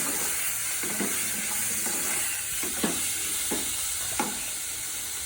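Boiled potato with crushed black pepper cooking in a pan, a steady close sizzle with a few faint scraping stirs, no talk.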